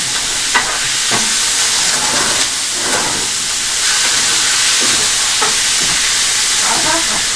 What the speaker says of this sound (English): That sizzle is the best.